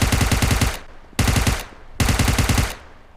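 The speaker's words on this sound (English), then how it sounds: "I was able to get some shots off" Automatic weapon fire in the mobile game PUBG Mobile: three loud, close bursts of rapid shots, each lasting under a second with short gaps between, no voices.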